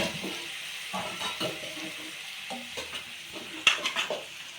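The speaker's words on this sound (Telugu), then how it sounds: "టమాటాలు ఇప్పుడు వేస్తే మంచిగా ఉడుకుతాయండి ముక్కతో పాటు." Chopped tomatoes go into a pan of frying chicken curry, giving a soft steady sizzle with a few stirring scrapes and a light clink of a spoon against the pan, close and alone.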